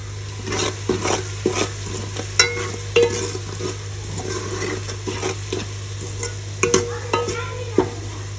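Chilies frying in hot oil in a pan, with a steady sizzle and repeated scraping stir strokes and clinks of the spoon against the metal, close by and fairly loud, under a low constant hum.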